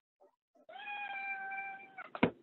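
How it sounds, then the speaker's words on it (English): A single drawn-out cat meow, fairly close and clear, preceded by a couple of faint chirps and ending in a short sharp noise. "That was my cat, if you all heard that."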